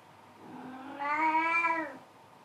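A single drawn-out cat meow, clear and close, rising and then falling, against a quiet background.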